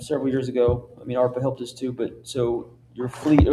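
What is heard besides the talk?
No everyday noise stands out behind the speech.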